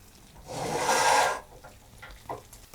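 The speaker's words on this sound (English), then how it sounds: "And now for a gentle stir." One brief scraping sweep of a spoon stirring sausages and vegetables in a skillet, close and rough, then a quieter scrape and a light tap.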